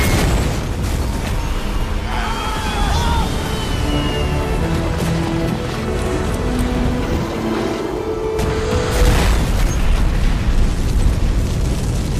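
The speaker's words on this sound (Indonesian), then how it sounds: "menembaki tangki itu hingga meledak" A loud, sustained gas tank explosion after gunfire, with a deep rumbling roar, followed by crackling debris and a second surge of booming noise near the end as a helicopter burns.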